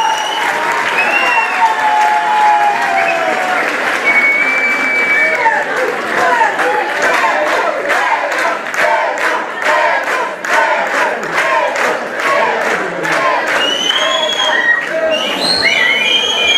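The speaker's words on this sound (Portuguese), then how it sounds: "Uma salva de palmas para eles." Audience applause for students at an excellence awards night at a school in Mação, loud dense clapping with cheers sustained throughout, voices calling out over it.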